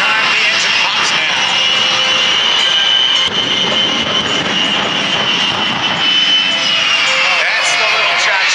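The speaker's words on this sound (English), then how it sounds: "J-34 jet engines that power it have been modified with afterburners" Jet aircraft with modified J-34 jet engines fitted with afterburners at an air show in Belle Chasse, Louisiana, a loud, steady roar close by that stays continuous throughout.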